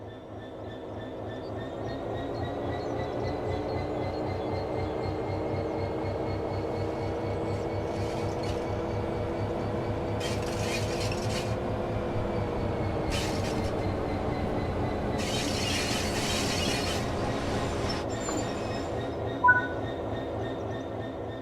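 A locomotive in a train simulator game rolls slowly toward waiting wagons, a steady humming engine drone with rumbling wheels and a few bursts of hissing brake air, continuous and close.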